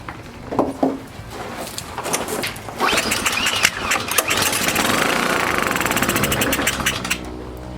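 A brand new small engine that has sat for 19 months is cranked, coughs and sputters, catches into a rough rising roar for a few seconds, then fades and dies.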